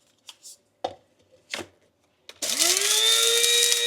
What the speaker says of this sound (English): I am going to put it in my little coffee bean grinder, spice grinder, and just grind it up nice and fine.